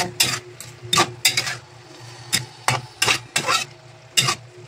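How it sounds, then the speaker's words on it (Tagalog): Chicken adobo cooking in a pan for a fern dish, with frequent scraping stirs over a low steady simmering hiss, fairly close, no talking. "Ito na, kumukulo na siya."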